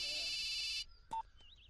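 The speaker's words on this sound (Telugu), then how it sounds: "జఫాబాయ్ ఫోన్." A phone rings with a bright electronic ringtone for under a second, then cuts off, leaving faint short tones and quiet.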